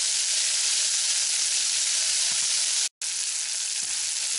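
Bacon jam reducing in a pan gives a steady, loud frying sizzle, with a dense, even hiss throughout and a brief cutout near the middle.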